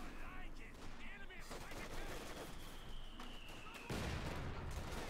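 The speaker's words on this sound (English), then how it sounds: "More mortar fire there." Mortar fire in the Company of Heroes 2 strategy game: a dense, steady stream of battle noise with repeated crackling shots and blasts, and a heavier burst near the end.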